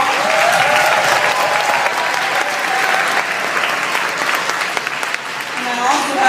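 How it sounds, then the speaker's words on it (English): An audience applauds students after the Torrence Creek Quarter Notes 2016 winter concert. The crowd claps loudly and continuously, with some voices mixed into the applause before it eases slightly at the end. "Let's give them another round of applause."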